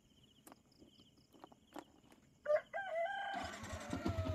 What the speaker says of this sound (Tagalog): ang ingay-ingay na ng manok natin.